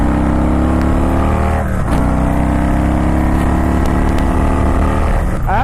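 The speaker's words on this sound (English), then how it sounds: "just letting this bike open up as soon as I get around this curve" Custom Harley-Davidson Softail Stage 2 opening up out of a curve, a loud, close engine revving through rising pitch with a brief dip at a shift, running continuously.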